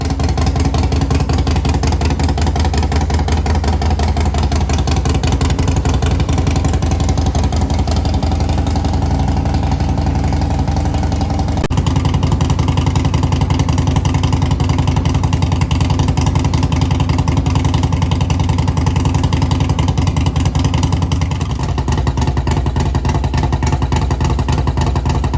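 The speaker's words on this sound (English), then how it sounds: "we're gonna do the ignition startup sequence and get this bike running." A Harley-Davidson Dyna Street Bob, fitted with a Thundermax auto tuner, idles loud and close after its first start on a build, a steady throbbing engine rumble that shifts slightly in tone partway through.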